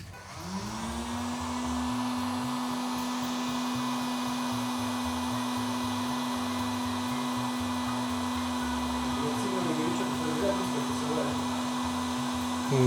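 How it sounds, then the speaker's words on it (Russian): A hair dryer runs steadily for about twelve seconds to set the vanes of Bohning Blazer Quikfletch fletching on an arrow, a close, even whirring hum with a constant tone and no talk. "Сейчас я включу фен"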